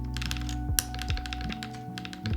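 Typing on a Monokei x TGR Tomo mechanical keyboard, rapid close clacks in a quick run with a sharper hit near the start, over a low steady background hum.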